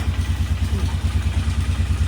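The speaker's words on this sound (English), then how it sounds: "Idle's a little high." Four-wheeler ATV engine idling a little high, a steady pulsing low chug with regular beats and some mechanical clatter, close and even throughout.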